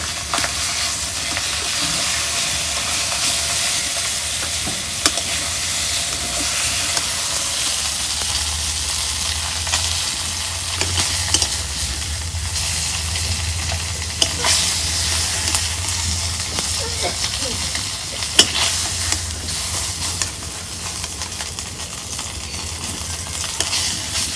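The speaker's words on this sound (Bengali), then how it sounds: "মাছ ভাজা হচ্ছে" Pieces of pangas fish fry in hot oil in a pan, giving a loud, close, steady sizzle and hiss that lasts throughout with small crackles and no talking.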